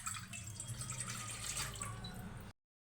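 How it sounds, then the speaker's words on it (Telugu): A glass of water pouring into a pot on a stove, a continuous splashing stream heard close for about two and a half seconds before cutting off. "ఇందులో 1 గ్లాస్ నీళ్లు పోసుకొని"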